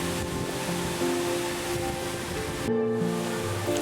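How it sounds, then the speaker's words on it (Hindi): The Amrit Dhara waterfall on the Rudranath trek pours in a constant broad rush of falling water, steady and moderately loud, with a brief dip partway through before the roar resumes. "इस झरने को अमृत धारा कहा जाता है और इसके नीचे अमृत कुंड स्थित है।"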